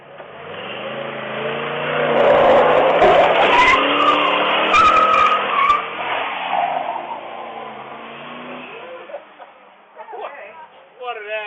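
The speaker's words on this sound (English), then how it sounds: "It's a little one-wheel peel" A 1969 Toyota Land Cruiser FJ40 spins one rear wheel in a one-wheel peel, a loud rising engine roar with harsh tire squeal lasting several seconds before fading as a voice talks near the end.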